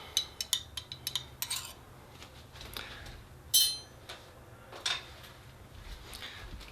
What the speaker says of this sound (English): And then you stir it with the spoon.